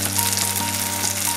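Spice powders of cumin, coriander, red chilli, Kashmiri chilli and turmeric fry in hot oil for til achar, making a dense, loud, close sizzle that holds steady throughout the short burst.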